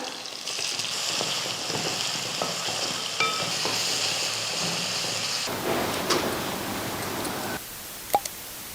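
Chopped tomatoes added to a hot pan with garlic for raw mango vathal kuzhambu, giving a steady hissing sizzle. The hiss shifts midway, as if stirred, with a few soft clinks near the end.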